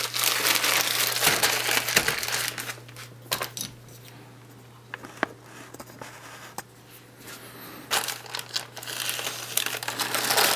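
A damaged parcel holding paracord being opened by hand, with bursts of close crinkling and crumpling packaging, sharp tearing and rustling clicks, and quieter pauses between, over a low steady hum.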